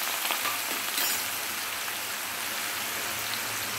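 Finely chopped onion sizzles in hot oil seasoned with asafoetida, a steady hissing crackle close by, with no talk over it.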